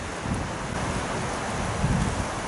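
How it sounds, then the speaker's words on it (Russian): Broad roaring wind rushes continuously through trees, with gusts buffeting the microphone and a low rumble beneath. "Ветер в деревьях шумит, и шумит, будь здоров."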